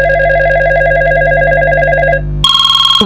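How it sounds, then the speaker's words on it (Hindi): A phone ringtone plays loud and close in a steady repeating electronic warble, then cuts to a brighter tone pattern near the end. "इसका नंबर पर फोन आ रहा है"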